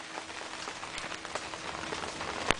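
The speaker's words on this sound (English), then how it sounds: "in the middle of a freak hailstorm" A freak hailstorm heard from outdoors: a steady, dense patter of hailstones striking surfaces, with scattered sharper impacts and one louder hit near the end, and no voices.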